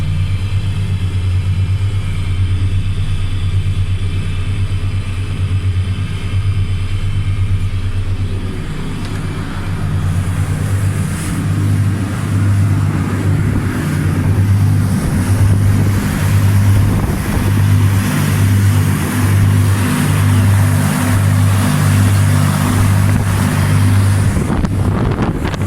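A boat powered by a Cummins 5.9 diesel engine runs during sea trials, a steady low droning hum with a pronounced throbbing rumble that grows heavier partway through, mixed with wind and water noise, no talking.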